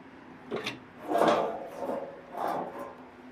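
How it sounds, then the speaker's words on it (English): A cutting tool grinds and rasps through the metal floor pan of a 1969 Camaro in a few scraping, squeaky passes of moderate loudness, with no talking. "Let's start cutting this floor up"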